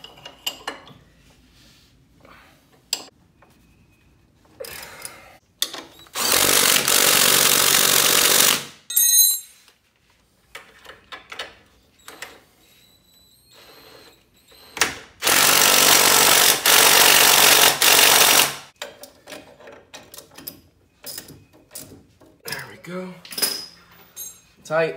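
Power tool tightening control arm mounting bolts on a Honda CRX/EF traction bar setup, two long loud bursts of rattling impact separated by quieter clinks and shop handling noises.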